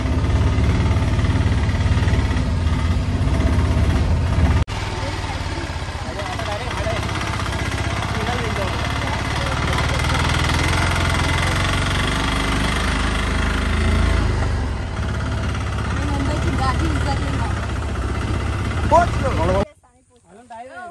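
A village dukduki rickshaw engine drones and rattles steadily during a bumpy ride, loud and close, with voices talking over it before it cuts out near the end.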